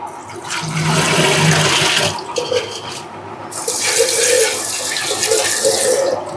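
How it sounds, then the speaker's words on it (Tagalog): Water gushes and splashes continuously through a strainer, a loud close rushing pour that briefly eases around the middle before surging again. "So, i-strainer lang natin. Tatanggalin natin yung tubig."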